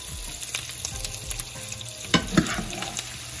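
Sausage frying in a pan crackles and sizzles steadily, with irregular pops and a few louder spatters near the end, close and clear with no talking.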